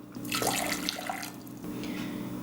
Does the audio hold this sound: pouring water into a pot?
yes